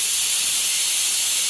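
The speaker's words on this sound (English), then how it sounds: "This is the dark purple pearl over the ultra matte black by RUSTOLEUM. I'm spraying" A spray gun at about 25 psi sprays dark purple pearl paint over ultra matte black, a steady loud close hiss with no pauses.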